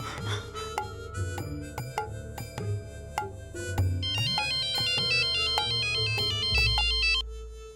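A melodic phone ringtone plays, repeating chiming tones that grow into a fuller, brighter pattern before stopping abruptly.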